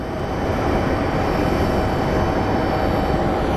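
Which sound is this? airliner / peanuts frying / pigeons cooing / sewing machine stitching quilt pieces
airliner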